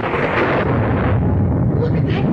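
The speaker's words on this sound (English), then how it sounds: "The center of the storm has hit us." A violent storm with thunder, a dense, loud rumbling roar that fills the whole clip without pause.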